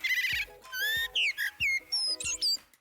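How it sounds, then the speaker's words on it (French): Fluted, melodious blackbird phrases, several short whistled bursts in a row, clear and fairly close, with no talking. "C'est le merle, et c'est aussi très musical."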